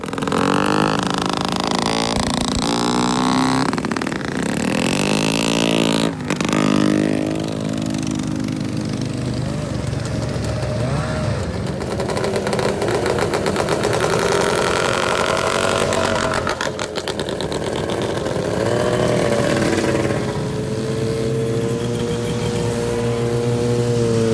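Rear-engine antique snowmobiles running on a winter trail near Pequot Lakes, a loud continuous mechanical drone with revving pitch swells lasting throughout, close by and with no voices.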